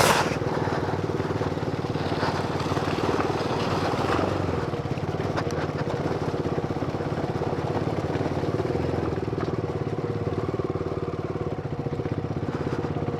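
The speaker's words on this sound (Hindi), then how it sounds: "अब बाइक फिसल रही है यार।" Motorcycle riding over the snowy Zoji La pass between Sonamarg and Kargil, its engine droning steadily and close throughout with constant wind and road noise and no clear breaks.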